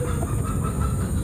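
A chicken clucks briefly and fairly close over a busy outdoor background, lasting barely more than a second.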